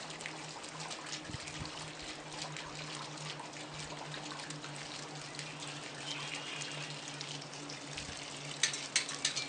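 Water streams steadily from the output of a homemade hydraulic ram pump at a camp, a continuous close trickling splash with a faint hum behind and a few louder knocks near the end.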